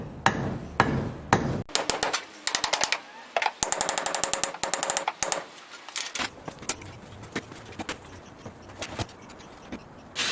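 A hammer drives nails into a wooden stud behind fibro sheeting, with bursts of sharp, close, rapid blows broken by short pauses and a few slower single strikes.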